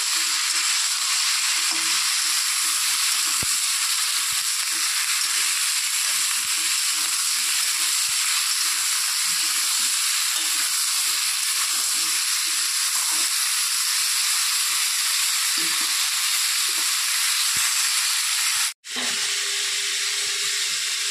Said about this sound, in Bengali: নুন হলুদ দিয়ে ফুলকপি আলুগুলোকে একটু ভেজে নেব